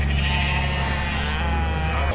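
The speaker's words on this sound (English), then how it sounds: "allowing her neighbor's goats to get out" Goats loose on a rural Miami-Dade property after a possible tornado, bleating steadily and close over a constant background of wind or rain noise, with no talk.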